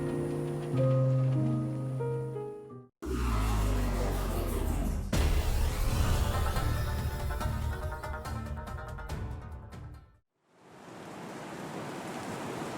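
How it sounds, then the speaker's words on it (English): Steady rain in the video game Nier Reincarnation, a broad continuous hiss that sets in after a stretch of soft music and runs on with a brief drop before resuming; no speech. "The sound of the rain begins to fade."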